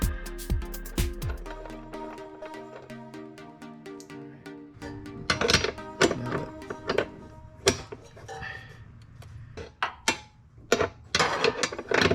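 A wrench works a tight 16mm bolt on a roof rack, giving irregular metallic clicks, ratcheting and clinks close by, with a few sharper knocks and scrapes as the bolt barely turns.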